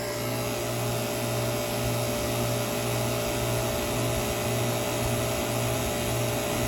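A vacuum pump pulls down a high velocity air conditioning system, running as a loud, steady mechanical drone with a constant low hum and broadband hiss, close and uninterrupted, with no talking.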